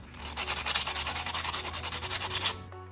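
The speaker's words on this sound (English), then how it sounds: "Next, we're going to smooth this out with some 120 grit sandpaper." 3D-printed Iron Man hand parts are sanded with 120 grit sandpaper, giving close, loud rapid back-and-forth scratching strokes in an even rhythm that stop abruptly.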